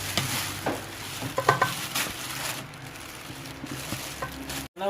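Kare kare ingredients, including banana heart, cook in a pot with a steady bubbling, sizzling wash, close and moderately loud, with occasional clinks of utensils and no talking.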